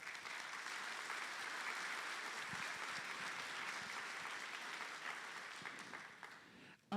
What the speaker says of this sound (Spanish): Demos un fuerte aplauso a nuestro ponente.